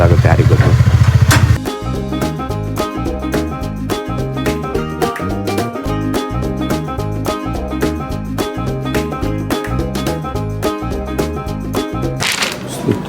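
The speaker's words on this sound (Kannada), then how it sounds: "ಗಾಡಿ ಸ್ಟಾರ್ಟ್ ಮಾಡ್ಕೊಂಡು ಹೊರಡ್ತಾ ಇದ್ದೀನಿ" A motorbike starts up, then settles into a steady, throbbing, rhythmic engine beat that carries on close by as it moves off, with a brief rev near the end.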